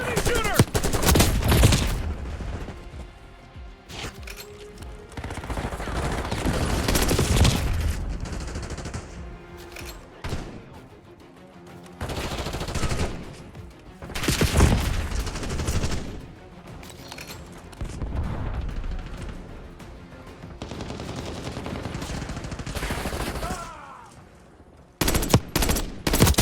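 Bursts of automatic gunfire in Call of Duty: Black Ops 6 multiplayer rattle in repeated loud volleys over about twenty-five seconds, with short lulls between them and someone talking at times.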